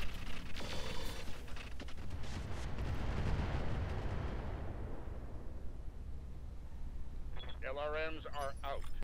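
A salvo of long-range missiles launching in the mech game Roguetech, a dense roaring rush of blasts that swells and slowly fades, followed by a short burst of warbling electronic tones near the end.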